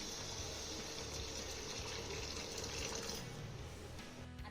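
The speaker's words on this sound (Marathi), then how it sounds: "तर यामध्ये ना मी 1 ग्लास गरम पाणी घालतेय." A glass of hot water is poured into a simmering vegetarian gravy, a steady continuous gushing splash that holds evenly and fades out at the end.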